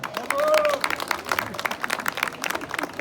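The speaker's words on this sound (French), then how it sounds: "Vous pouvez les applaudir." Audience applause for traditional costume dancers during a folk dance and headdress presentation: a burst of clapping with some voices mixed in, settling into steady, moderately loud applause.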